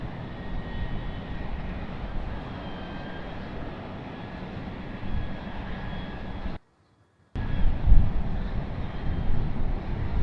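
Jet airliners taxiing at Raleigh-Durham International Airport, a steady, fairly distant engine whine and rumble with wind noise, briefly cut to silence before resuming.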